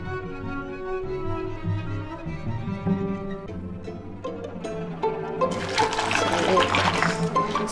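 Soap root scales are swished around in water, giving sloshing, gurgling liquid sounds that grow busier and brighter toward the end, close and moderately loud.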